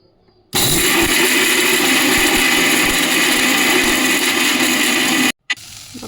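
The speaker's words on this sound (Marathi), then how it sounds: "सगळं मिक्सरमधून बारीक वाटून घ्यायचं" A mixer grinder roars loudly and steadily for about five seconds as it grinds roasted cloves, cardamom, black pepper and cinnamon, then stops abruptly. There is a quiet moment before it starts and a short restart at the very end.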